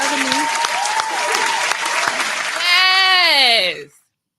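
A studio audience claps loudly and steadily for a podcast guest, with voices talking over the applause, which ends in cheering and laughter before cutting off.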